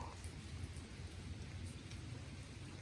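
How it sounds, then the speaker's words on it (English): Rain falls on a lakeside campground along a hiking trail, a faint, steady wash of drops with a soft low rumble beneath, continuous and without voices. "It won't stop freaking raining though."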